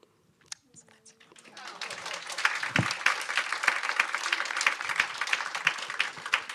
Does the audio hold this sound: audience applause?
yes